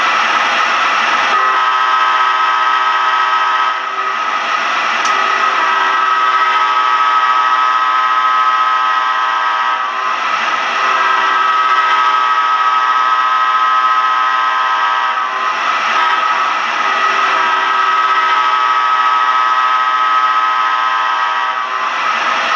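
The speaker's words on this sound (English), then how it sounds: "let's check out the horn" A loud, sustained electronic horn from an MTH Amtrak AEM-7 model electric locomotive blows in several long blasts with brief breaks, over a steady mechanical hum.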